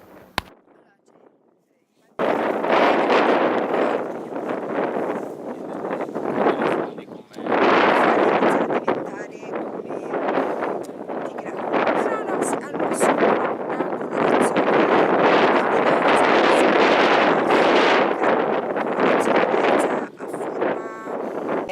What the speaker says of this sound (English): And check out how windy it is here.